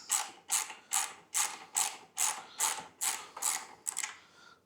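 Ratchet wrench loosening bolts on a 3D-printed grill fitted to a BMW R1250GSA motorcycle, nine crisp evenly spaced bursts of rapid pawl clicking, close and clear with no talk.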